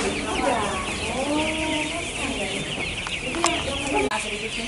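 Chickens cluck and chatter continuously nearby while feeding, a busy flock sound with a few brief sharp clicks and knocks near the end.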